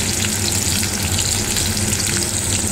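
Capsicum frying in hot oil for fried rice, a loud, steady, close sizzle that continues without pause.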